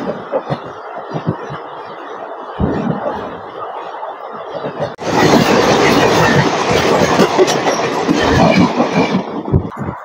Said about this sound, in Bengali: Train number 12313 Sealdah new Delhi দুরন্ত রাজধানী এক্সপ্রেস।